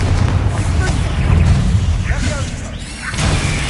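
A Confringo fire blast spell bursting in Hogwarts Legacy, heavy booming rumble with rolling explosive impacts, loud and sustained, a voice talking over it.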